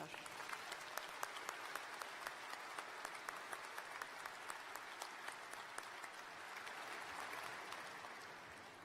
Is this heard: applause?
yes